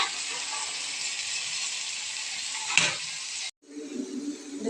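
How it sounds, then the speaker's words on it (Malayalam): Prawn heads frying in hot oil make a steady, close sizzle, with a brief stir or clink near the end and a short break before the sizzle returns. "ഓയിൽ വെച്ച് ഫ്രൈ ചെയ്യുക. ചെമ്മീൻ്റെ തല"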